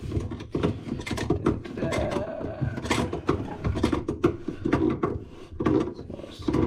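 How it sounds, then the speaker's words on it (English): Grips tighten a plastic basin waste nut under a sink, producing close, continuous clicking, grinding and creaking turns in quick irregular bursts, with no voices. "you want to grab your grips and just do this nut up"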